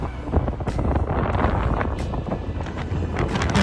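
Strong wind buffets the microphone while riding in Hunza valley, Pakistan, a loud continuous roar of broadband gusts throughout with no speech.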